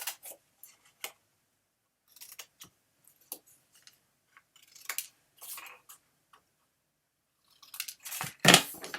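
Scissors snipping paper and cardstock while making a mini album, sparse crisp cuts and small clicks with quiet pauses between, and a louder cluster of snips near the end.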